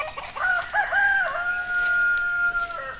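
Roosters crowing in a home yard garden in Kerala, one long drawn-out crow rising and holding, with fainter crowing and clucking from other fowl in the background, no talk.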